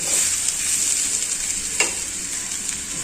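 Grated coconut and mango thoran gets stirred in a hot pan, a steady bright sizzle with scraping spatula strokes and one sharper knock partway through, close and alone without voices.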